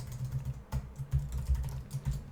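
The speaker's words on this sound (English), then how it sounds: "And then I can do the same thing by typing align items," Code being typed on a computer keyboard during a JavaScript tutorial: a steady run of soft, close keystroke clicks with irregular spacing and a few louder taps, heard alone with no talk.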